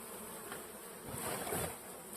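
Honeybees buzzing around a hive, a steady, fairly faint drone that swells slightly louder for a moment midway before settling back.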